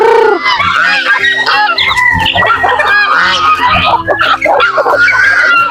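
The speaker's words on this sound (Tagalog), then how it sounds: "May gansa din tayo dito mga idol." A flock of farmyard geese honks loudly and close by, overlapping harsh calls in a continuous clamor with some chicken clucks mixed in.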